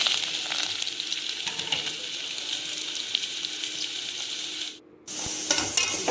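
Onions and curry leaves fry in a pan with a continuous bright sizzle and occasional stirring scrapes, cutting out abruptly for a moment near the end before resuming, and no one speaks.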